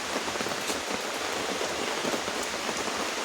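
Heavy rain pours outdoors, a constant, loud wash of drops hitting the ground and nearby surfaces, with no break or other sound standing out.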